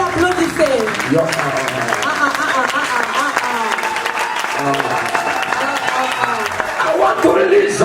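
A congregation claps at a prophetic church service, steady and energetic, with a voice and music-like tones running over and under the clapping throughout.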